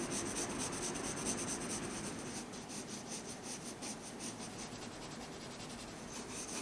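Watercolor pencil rubbing across paper as a floor shadow is shaded in, a soft continuous scratchy strokes sound, close and quiet, with no talking.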